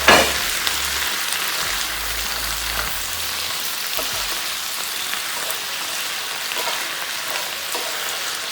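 Tofu and colorful vegetables stir-fry in a hot pan, a loud initial clatter as the tofu drops in, then a constant close sizzle that holds steady to the end.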